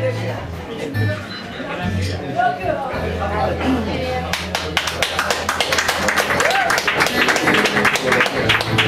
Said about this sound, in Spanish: Un fuerte aplauso para Manolo Pipas.